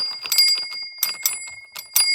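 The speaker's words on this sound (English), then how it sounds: "but it also got a working bell." A working toy bell on a Thomas 80th Anniversary barrel train set rings in quick, bright dings, several rapid strikes in irregular bursts, close and loud with a lingering metallic tone, no voices.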